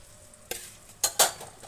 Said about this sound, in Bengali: খুব হালকা করে ভেজে নিয়েছি